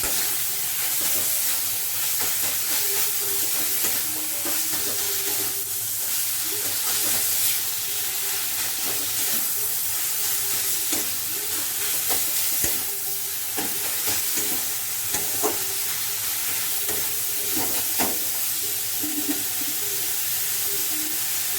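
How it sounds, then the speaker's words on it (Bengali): Momo filling in a pan with spice mix added, stirred while it fries, giving a steady broad sizzle with repeated scraping and stirring knocks throughout, close and continuous with no talking. "আমার এই মিক্সড মশলাটা দিয়ে দিচ্ছি। আরও একবার নেড়ে নিচ্ছি কয়েক সেকেন্ড।"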